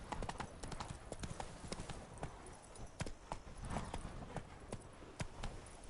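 Horse hooves gallop in The Witcher 3 video game, a fast, loud, steady drumming of clip-clop strikes continuing throughout.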